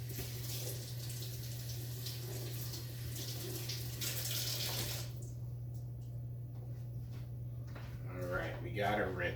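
Kitchen water tap running over a chuck roast being rinsed, a steady splashing hiss for about five seconds that then cuts off, leaving faint handling clatter and someone talking.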